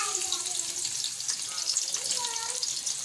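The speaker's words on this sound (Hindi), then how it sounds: "अब हम इसके अंदर कटी हुई प्याज ऐड करेंगे।" Chopped onions frying in hot oil in a kadai give a steady, close sizzle that holds level throughout, with some faint background noise.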